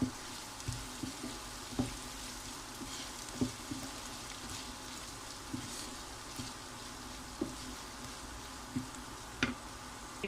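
Tomatoes frying with salt in a pan, a steady low sizzle with faint regular clicks from stirring, no talking.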